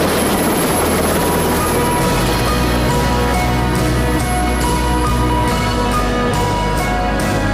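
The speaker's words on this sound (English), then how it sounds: "I'm going this big fat helicopter to the Isles of Scilly" A large helicopter flying to the Isles of Scilly drones loudly and continuously, its rotor chop and engine hum filling the cabin without pause.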